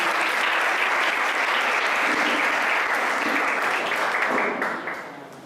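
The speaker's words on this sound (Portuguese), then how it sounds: "Então, aplauda Jesus na vida dela." A crowd claps steadily in dense, sustained applause that fades out at the end.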